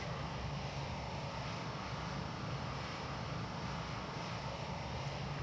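A Boeing 737-800 in X-Plane on takeoff: a steady, loud jet engine roar fills every moment, broad and constant with a low rumble and no breaks.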